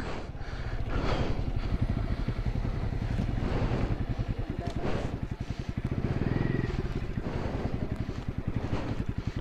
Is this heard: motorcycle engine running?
yes